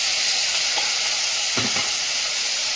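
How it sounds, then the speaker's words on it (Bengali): Fish drops into very hot oil and fries with a loud, continuous hiss and sizzle up close, with a couple of brief stirring scrapes and no talking. "আর এইদিকে তেলটা খুব গরম হয়ে গেছে, মাছটা দিয়ে ভেজে নেবো।"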